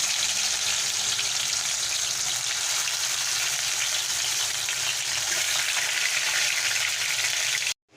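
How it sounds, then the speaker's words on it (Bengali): Marinated chicken fries in white oil in a wok with a loud, continuous close sizzle that runs unbroken and then cuts off abruptly at the end. "আমি কড়াইতে সাদা তেল দিয়ে দিয়েছি এবারে আমি যে মাংসটা ম্যারিনেট করে রেখেছিলাম এবারে আমি এগুলো হালকা করে ফ্রাই করে নেবো"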